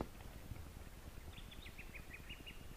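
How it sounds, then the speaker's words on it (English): Birds calling over a still, windless estuary on a late afternoon kayak trip, a faint series of short, high chirps repeating in a quick run against a quiet, gently knocking background. "So as you can hear, there's nothing except birds, not even wind."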